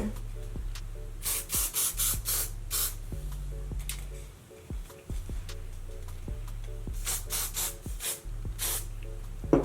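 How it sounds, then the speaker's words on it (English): Several short hissing bursts from an aerosol hairspray can sprayed onto hair, in quick clusters separated by pauses, close and fairly loud over a low background hum. "So I'm gonna take my hairspray and just hairspray these two."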